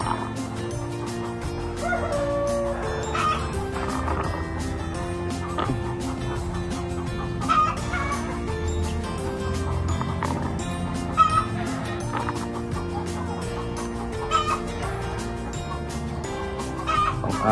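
A sick rooster crows hoarsely several times amid the clucking of other chickens, with a rough, strained quality over constant barnyard noise.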